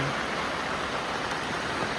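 Rain falls in a steady, even wash of hiss, moderately loud and unbroken throughout the short stretch, with no voices.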